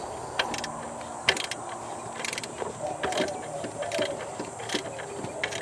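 A ratchet clicks in quick irregular bursts while tightening a 12mm alternator bolt on a Toyota 3.4L V6 engine, fairly faint sharp ticks over a low background hum.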